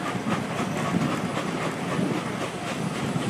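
Steam locomotive 765 pulling a southbound passenger excursion rushes past close by at Boston Mill, a steady loud roar of rolling wheels and rattling cars with faint rhythmic clatter throughout.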